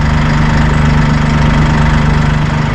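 A skid steer tractor fitted with a 4-in-1 bucket idling close by, a loud steady diesel rumble with a rhythmic knocking pulse and vibration, no voices.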